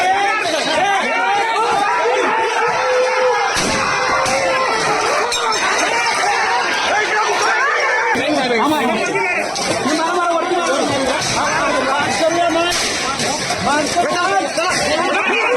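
Dense, loud crowd commotion during clashes with police in India, with continuous shouting and babble plus scattered clinks and crashes of debris, sustained throughout at close range.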